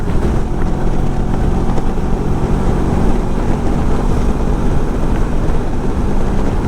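A Kawasaki Versys 650 motorcycle cruising at about 130 km/h and 6000 RPM, its steady engine drone blended with heavy rushing wind noise, loud and continuous with no talking.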